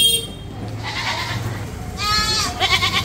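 A young goat bleats at a goat market in Byculla, Mumbai, giving a couple of wavering cries close by amid low crowd murmur, with someone speaking briefly.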